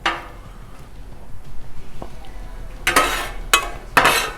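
Eggs cooking on a Blackstone griddle get stirred with a spatula. Three quick, loud scraping strokes cut across a faint steady sizzle, close up.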